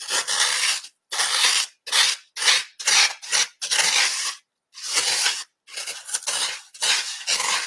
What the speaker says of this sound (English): this spoon is wonderful. It just really digs out what you want, like instead of a knife